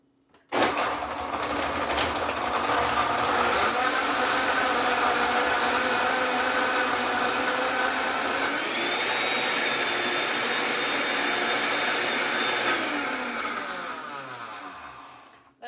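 A Vitamix blender crushes ice for a chocolate banana smoothie, a loud, steady motor roar running for about twelve seconds that shifts pitch partway through as the load changes, then winds down at the end.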